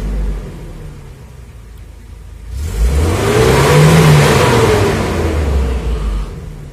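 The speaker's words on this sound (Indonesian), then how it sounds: "Sekarang kita coba tes RPM-nya. RPM-nya tidak usah tinggi-tinggi ya." A Toyota Kijang LGX with a 2000cc engine running on gas fuel idles, then revs up in one smooth rising sweep, holds a strong close roar for a few seconds and settles back down.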